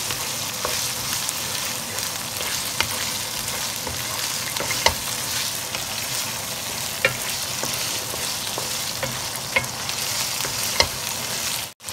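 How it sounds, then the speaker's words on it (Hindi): Minced meat (qeema) fries in a pan for aloo qeema, a steady broadband sizzle with scattered clicks of a spoon stirring and scraping, close and continuous throughout, no voices. "जब कीमा खुल जाए उसको 5 से 7 मिनट तक हम अच्छे तरीके से भूनेंगे।"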